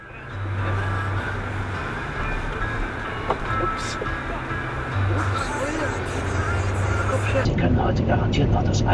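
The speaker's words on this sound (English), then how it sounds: "Here we are driving on the German autobahn and we are doing around 160 kilometers per hour." Continuous loud road and engine roar from inside a car cruising at around 160 km/h on a German autobahn, with steady tyre and wind noise throughout and a low drone that rises slightly toward the end.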